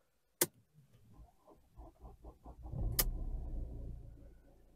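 A Mercedes E-Class W212 being started: a sharp click, several cranking pulses, then the engine catching into a steady idle, with another sharp click partway through, fairly quiet and close.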